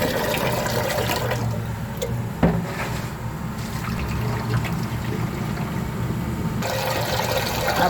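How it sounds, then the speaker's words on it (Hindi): Water is poured into a pot of dal (lentils) in a home kitchen, a steady splashing, trickling pour that runs for several seconds at close range with no talking. "अब हम दाल में सिर्फ उतना ही पानी रखेंगे जितना पानी की इसकी ज़रूरत है जी"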